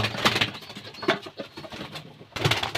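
Pigeons in a breeding setup coo near their two hatched chicks, giving close, throaty cooing phrases in short bursts separated by brief pauses.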